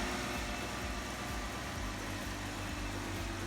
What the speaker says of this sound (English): Idling down good, sounds like everything's good.